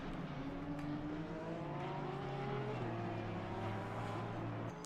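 Porsche GT3 race car engine on a hot lap at Circuit of the Americas in a sim racing game, a loud steady high-revving drone with pitch sweeping up through gears, then an abrupt shift near the end.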